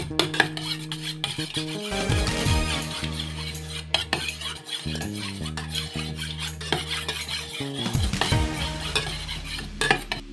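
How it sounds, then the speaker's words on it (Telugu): Two eggs are whisked in a bowl, with a utensil clinking and scraping against the sides in quick, ringing, repeated strokes. "రెండు గుడ్లు తీసుకున్నాను వీటిని బాగా కలుపుకుంటున్నాను"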